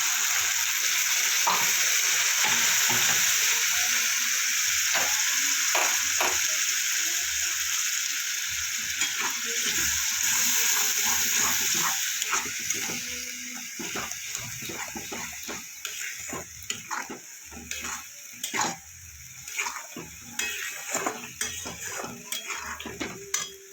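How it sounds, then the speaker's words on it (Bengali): Spice paste with a splash of water sizzles and fries in a pan for a Bengali chicken posto, a steady hissing that later breaks into intermittent stirring scrapes and clinks of a utensil against the pan. "মশলাটা যাতে না পুড়ে যায়, আমি একটু মশলাটার জলটা দিয়ে দিলাম।"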